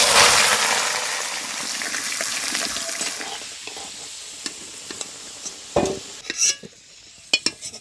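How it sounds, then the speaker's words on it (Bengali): Potatoes drop into hot oil in a wok and fry with a loud, close sizzle that gradually fades, followed by scattered utensil clinks and stirring scrapes. "এখানে আলু ভাজা বসাই দিচ্ছি কিন্তু আমি"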